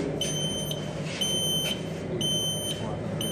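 A conventional fire alarm control panel buzzer beeps in repeated short, evenly spaced high tones over a steady background hum, loud and close.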